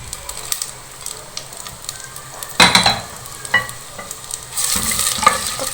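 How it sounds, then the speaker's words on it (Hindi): Onions dropped into hot oil for mutton kunna burst into a loud sizzle that flares again as they are stirred, settling into a steady frying hiss with scraping strokes and a final surge of crackle. "इसमें हम सबसे पहले ये प्याज ऐड करेंगे।"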